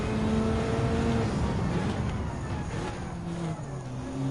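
Rally car engine in Gran Turismo 7 during a World Rally Challenge Gr.B race on Trial Mountain circuit, a loud sustained drone with rising and falling revs as the car drives on, no talk over it.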